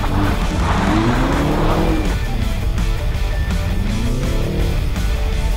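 A car driven hard with traction control fully off, tires squealing loudly in repeated wavering screeches over a roaring engine, close and continuous with no talking.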